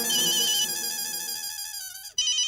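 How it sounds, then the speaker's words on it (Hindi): A melodic electronic phone ringtone plays loudly and alone, its tones stepping down, pausing briefly, then starting again near the end. "जेठालाल का फोन"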